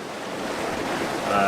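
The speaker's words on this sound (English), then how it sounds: "Well, the wind has picked up." Strong wind gusting to 25 knots roars steadily over sea waves around a sailboat, a broad, loud rushing that builds slightly toward the end.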